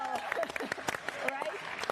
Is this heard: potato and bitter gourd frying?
no